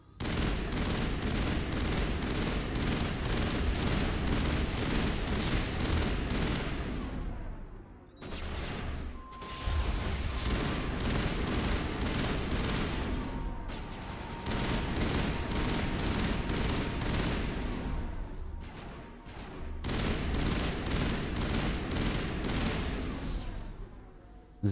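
Gunfire rattles through a Mass Effect battle in long, loud, continuous bursts that fill the sound, broken by a few short pauses, with no voices heard.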